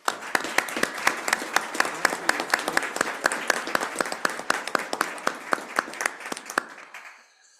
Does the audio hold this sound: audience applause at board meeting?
yes